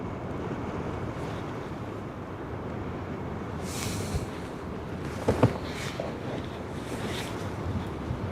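Strong wind blows at the Westerschelde shore in the Netherlands, a steady broadband roar and buffeting on the microphone throughout, with no one speaking.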